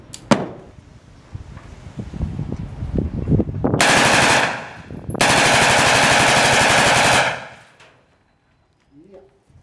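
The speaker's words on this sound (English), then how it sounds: "Okay, we're gonna go full auto, have some fun." Full-auto bursts from an MP5, M16 or AR-15-type rifle or 9mm submachine gun at an outdoor range in Angeles, Philippines: two long, loud sustained strings of rapid fire after scattered handling noise and movement, ending in silence.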